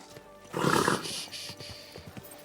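A horse in the video game Kingdom Come: Deliverance II snorts and whinnies loudly up close, followed by a few soft hoof clops, with no talking.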